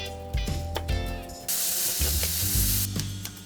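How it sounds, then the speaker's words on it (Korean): Julienned carrots stir-fry in cooking oil with salt, giving a loud, steady sizzle that swells into a bright hiss midway, broken by several sharp clacks of a utensil against the pan. "식용유와 소금 넣고 당근 볶아줍니다"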